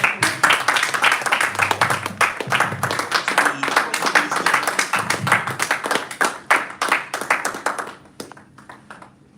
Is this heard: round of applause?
yes